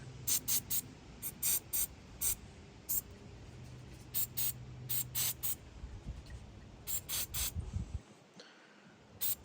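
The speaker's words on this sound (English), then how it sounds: "just gonna use some of this battery terminal protector, and just gonna spray them down a little bit" Short hissing bursts of aerosol battery terminal protector spray on a cab-over truck's battery terminals come in quick repeated pulses, close by, with brief pauses between them.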